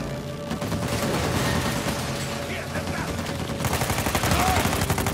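Sustained rapid gunfire with infinite ammo in the Uncharted 4 video game, a dense continuous rattle of shots that grows louder near the end over a busy mechanical background.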